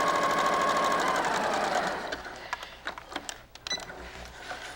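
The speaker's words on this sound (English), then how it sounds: "So we just sew from one to the next." Close and steady, a sewing machine runs continuously as it stitches Hawaiian quilt fabric, then slows into scattered clicks and short mechanical taps near the end.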